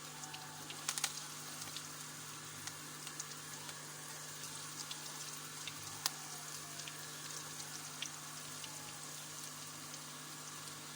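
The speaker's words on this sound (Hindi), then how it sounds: "जब ऑयल गरम हो जाए तो आंच जो है वो मीडियम रख देनी है, क्योंकि हमने इसको अंदर से भी पकाना है" Chana dal koftas fry in hot oil over medium heat, giving a soft, steady sizzle with scattered faint pops and crackles. The sound stays quiet and close, with no talking.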